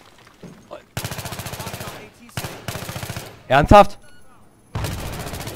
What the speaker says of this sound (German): hör auf zu schießen, ich sehe nichts